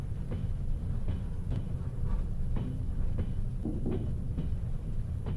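A train rolls past in Trans-Siberian Railway Simulator, a steady low rumble with regular rhythmic clacks of wheels over rail joints, moderately loud and continuous without talk.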